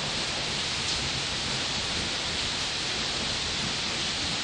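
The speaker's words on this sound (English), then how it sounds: "Raining." Steady heavy afternoon rain pours down in a dense, unbroken hiss that stays constant and loud throughout, with no voices.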